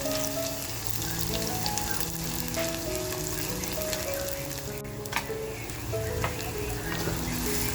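Finely chopped onion fries over low heat with reddened garlic and chili for a spicy crab kharda. The sizzle is a dense, continuous crackle with background music playing throughout.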